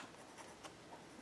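A white gel pen writes across paper in a quiet room, giving soft, close scratchy strokes with brief pauses between words.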